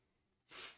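One sharp, breathy sneeze bursts out suddenly after a moment of near silence, close by.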